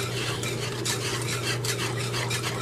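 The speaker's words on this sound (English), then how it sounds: "You want to add in about 2 cups of chicken broth to this, and then we're going to whisk this very well." A metal whisk beats chicken broth into a thick mixture in a pot, making a steady, close scraping and swishing rhythm.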